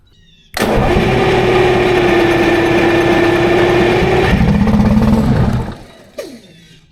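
A 487 hp Detroit Diesel 6V92 fire pump engine cranks and fires, settling into a loud, steady near roar for about five seconds before shutting down abruptly, followed by a brief clunk.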